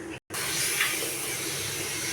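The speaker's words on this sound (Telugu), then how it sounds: "తగినంత వాటర్ వేసుకోవాలి." Water pours steadily into a pot of about a kilogram of rice, salted and spiced, for prawn biryani, a close, continuous splashing hiss after a brief silent gap.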